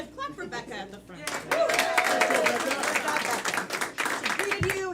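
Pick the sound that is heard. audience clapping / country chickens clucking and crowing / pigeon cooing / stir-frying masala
audience clapping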